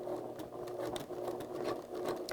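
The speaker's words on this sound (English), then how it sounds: "And I would backstitch here" A sewing machine backstitching while sewing a lapped zipper, a steady, close whirring and rapid needle patter running continuously without talk.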